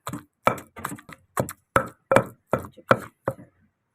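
Ten sharp pestle thuds pounding sliced onion into ridge gourd chutney in a stone grinder, a steady close rhythm of hard strikes with brief gaps between them.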